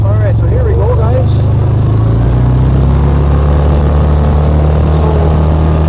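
A car fitted with a clutch kit accelerates hard on a road run, its engine a loud, steady low drone that climbs gradually in pitch, with a brief voice near the start.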